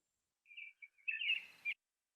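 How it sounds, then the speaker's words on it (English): An American robin sings a short, clear phrase of high whistled notes, ending in a brief scratchy burst, heard close and alone in a quiet setting. "Robin."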